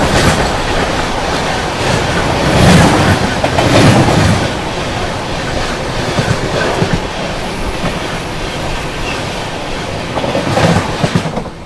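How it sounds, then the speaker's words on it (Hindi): Ayodhya Express passenger train running between Ayodhya Cantt and Delhi passes a railway crossing with a steady loud roar and clickety-clack of wheels, swelling briefly as cars rush by close. "ये थी दोस्तों अयोध्या कैंट दिल्ली अयोध्या एक्सप्रेस"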